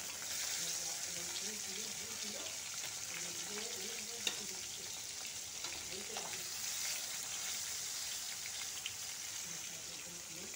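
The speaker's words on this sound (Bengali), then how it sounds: "তারপর আমি একে একে সমস্ত মাছগুলো দিয়ে দেব তেলের মধ্যে।" Koi fish fry in hot oil, giving an even, dense sizzling hiss with faint crackles and a few soft knocks nearby, while a voice murmurs quietly underneath.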